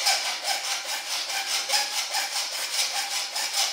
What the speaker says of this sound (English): I was cutting the center part out of the XMaxx.